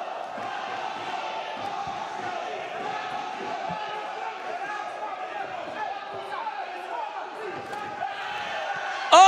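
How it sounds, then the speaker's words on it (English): At a GFC kickboxing fight night, a large arena crowd roars and cheers steadily, a dense sustained din beneath a commentator's voice, swelling sharply at the very end. "Listen to this crowd."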